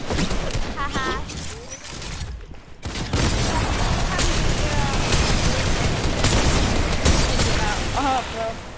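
Gunfire in the video game Fortnite during sniping, dense bursts and booms running almost continuously over game noise, with people talking over the action throughout.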